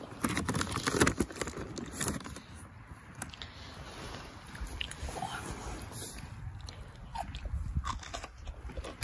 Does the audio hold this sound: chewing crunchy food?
yes